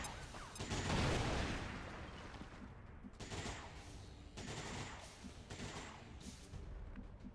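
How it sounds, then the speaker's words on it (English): A grenade blast in the XCOM 2: War of the Chosen tactical game, a loud rumbling boom followed by several sharp bursts of gunfire and thuds, fairly close and with no speech. "Grenade."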